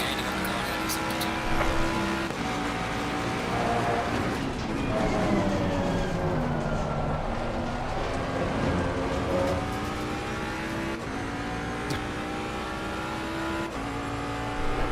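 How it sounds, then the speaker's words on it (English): Engine notes of a Nissan GT-R GT3 race car in Assetto Corsa Competizione at Red Bull Ring rise and fall through gear changes, a loud sustained racing drone with the car's whine closing in from behind. "Nissan GTR coming up behind."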